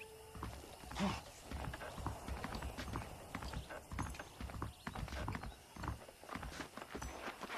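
Rhythmic horse hooves clopping along at a steady pace in Red Dead Redemption on Xbox 360, fairly close, with faint mechanical creaks and soft background ambience.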